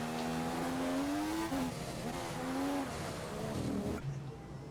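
A Formula racing car engine whines in a video game, a loud steady tone climbing in pitch through the gears, dropping at each shift, then cutting off abruptly near the end.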